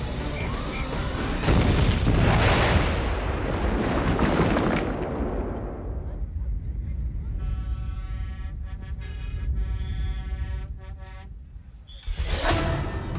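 A hexane-filled tanker truck explodes in a huge roar that swells and rumbles for several seconds, then fades into a steady tonal drone before another loud burst at the end.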